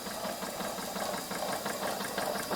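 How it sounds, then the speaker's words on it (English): Tiny small engine driving an air compressor in a workshop, chugging in a fast, steady knocking rhythm at close range, alone without talk. "See this little engine here?"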